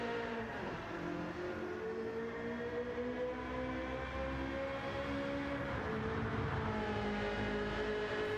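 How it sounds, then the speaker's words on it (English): A Ferrari GTO's twin-turbocharged V8 engine in the Gran Turismo 7 racing game, a steady droning engine tone with shifting harmonics as revs climb and settle, continuous and moderately loud with no talking. "you might notice the sound because it just sounds like a weird 458"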